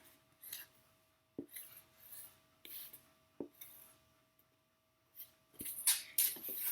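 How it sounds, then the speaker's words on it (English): A pen or pencil strokes a square by hand on paper, giving four short, quiet scratching rubs with pauses between them and a brisker pair of strokes at the end. "I'm going to go ahead and draw a square."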